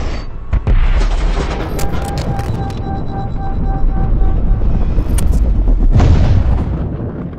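A gunshot fired into level 2 soft body armor sounds as a sharp, loud impulsive crack near the start, followed by a sustained loud rumble and ringing, then a second strong burst near the end.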